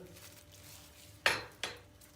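Spices being stirred into eggplant in a pot, heard as two quick sharp clanks of a utensil against the pot about a third of a second apart over a faint quiet background, no talking.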